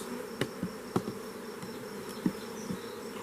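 Honeybees drone in a low, continuous buzz inside wooden hive supers, with a few soft wooden taps and knocks scattered through.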